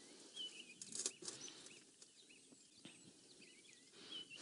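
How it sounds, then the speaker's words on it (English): Birds waking up at dawn on a morning safari game drive, with faint scattered chirps and calls in the distance over quiet bush ambience and occasional rustling. "it's just the most beautiful sound here, all the birds waking up"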